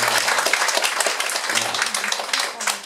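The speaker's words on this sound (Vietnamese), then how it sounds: "vỗ tay cảm ơn ngài" Church congregation applauding to thank a guest at a thanksgiving service, steady dense clapping from a crowd across the whole stretch, with faint voices mixed in.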